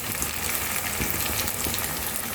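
Ground cumin hits hot oil in a pan of chickpea and potato curry, giving a steady, loud broadband sizzle with a watery hiss that holds evenly throughout, with no voices.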